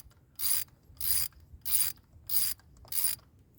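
A hand ratchet clicks in five evenly spaced bursts as it runs a spark plug into a 1995 Miata engine, close and crisp against near silence.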